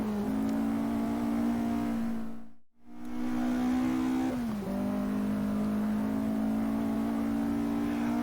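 A racing car engine, the last car Sir Stirling Moss raced, held at a steady high drone that dips briefly, then returns with a pitch shift between gears, loud and close.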